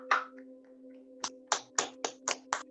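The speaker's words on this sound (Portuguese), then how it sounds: "Salva de palmas para vocês" A small audience claps in a few short, sharp bursts, a loose rhythm of separate hand claps rather than a sustained ovation, heard fairly close over a steady low hum.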